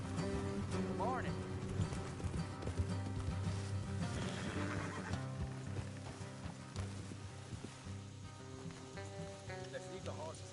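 Horses neighing and whinnying in Red Dead Redemption 2, heard beside a hoof clip-clop and a sizzling hiss beneath a steady bed of game music, with voices talking over it.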